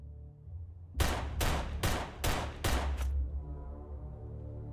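Gunfire in Starship Troopers: Terran Command, six loud evenly spaced rifle shots fired in quick succession, followed by a ringing hum and low background drone.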